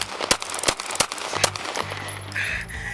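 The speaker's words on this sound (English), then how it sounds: "Shots fired! Shots fired!" A police officer fires about five sharp gunshots in quick succession during a tense confrontation, loud and close, followed by a brief sustained tone.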